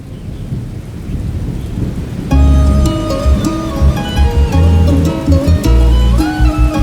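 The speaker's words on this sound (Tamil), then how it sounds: "மழை வருது" Heavy rain pours steadily with rumbling thunder, the downpour thickening partway through as low rolls of thunder swell and fade, loud and close with no voices.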